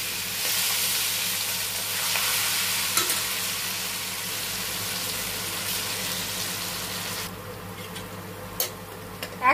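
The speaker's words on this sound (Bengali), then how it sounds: "তেল গরম হয়ে এসেছে। এরপরে এই যে এগুলোকে ছেড়ে দিচ্ছি।" Pieces dropped into plenty of hot oil in a kadai, prepared alongside chana dal, fry with a strong steady sizzle and stirring, which dies down near the end to a few clinks.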